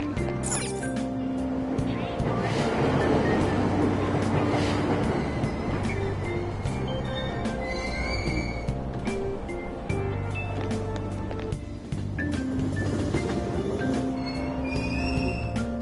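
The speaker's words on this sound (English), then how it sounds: "Train doors are now closing. Please stand back." A subway train pulls out of Aoyama-Itchome station in the Persona video game: loud rumbling, rolling wheels and squeals fill the whole stretch, with platform announcements playing over the noise.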